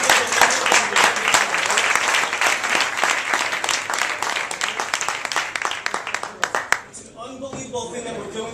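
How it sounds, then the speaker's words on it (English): An audience at a running ministry meeting claps in a sustained round of applause. Dense, overlapping hand claps fill the room, then thin out and die down near the end as voices take over. "I want you guys to give yourself a round of applause."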